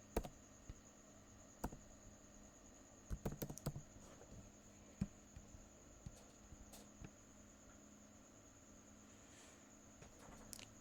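Someone types on a computer keyboard in irregular bursts of clicks, with a quick flurry early on and scattered keystrokes over a quiet electrical hum.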